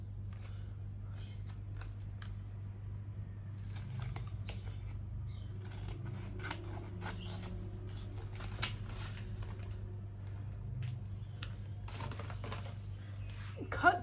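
Scissors snip through a clear plaster strip close by in a quiet room, a scatter of small crisp cuts and crinkles spread over the stretch with a steady low hum beneath.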